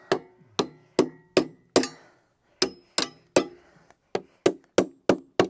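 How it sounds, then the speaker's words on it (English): A hammer strikes a metal upstand again and again to flatten it while a garden room base is built. The blows are sharp and ringing, mostly evenly spaced, with a short pause partway through. "You can actually flatten it with hammer."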